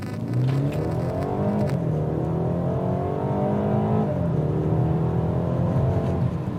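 A BMW 330i M-Sport in manual mode revs hard and accelerates, its engine note rising and falling through the gears, loud and steady with no talk over it.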